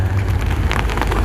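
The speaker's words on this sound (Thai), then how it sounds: "ฝนมา" Heavy rain falls in a dense, loud patter of drops striking surfaces close by, a constant downpour with no voices.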